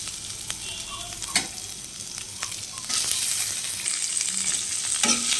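Onion dropped into hot oil with whole garam masala for ghugni, sizzling loudly and rising in intensity partway through, with spatula scrapes and stirring clatter up close and no speech.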